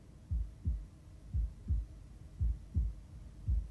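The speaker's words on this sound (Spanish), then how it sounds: "Uy, esos latidos de corazón." A heartbeat sound effect from the Slam Dunk anime plays as four slow, evenly spaced pairs of deep, soft thumps, quiet and alone.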